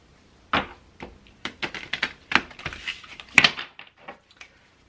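An oracle card deck is shuffled by hand during a pick-a-card reading, giving an irregular run of close, crisp papery slaps and clicks, some in quick bursts, with no talking.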